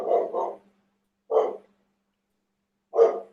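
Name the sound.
dog barking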